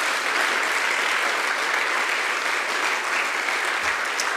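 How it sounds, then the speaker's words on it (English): Church congregation at a Sunday service gives steady, full applause that fills the room evenly for several seconds, with no voices over it. "give them a round of applause."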